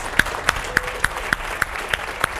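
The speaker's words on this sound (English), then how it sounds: "Let's give him an applause." Applause at a business conference talk on fitness challenges: one clapper close by claps in a steady, evenly spaced rhythm, with softer crowd clapping underneath.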